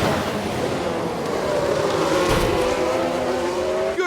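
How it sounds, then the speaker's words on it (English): Formula 1 cars in F1 Manager 22 roar and whine at high revs, with a burst of crashing noise midway as engines keep screaming past. "that is a serious collision"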